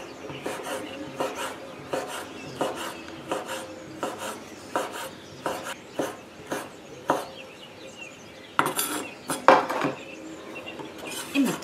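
A knife cuts a single 60 g slice of speck, first halved and then into matchsticks, on a board. The strokes are quick, close and steady, with a few brief pauses and a short clatter near the end.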